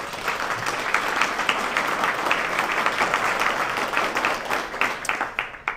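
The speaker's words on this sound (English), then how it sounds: "If we could all give them a round of applause" A room full of people at a community event applauds the day's sponsor with steady, fairly loud clapping that carries evenly throughout, a few sharper claps standing out near the end.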